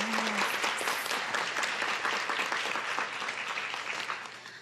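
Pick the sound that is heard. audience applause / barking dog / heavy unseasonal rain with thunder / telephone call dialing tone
audience applause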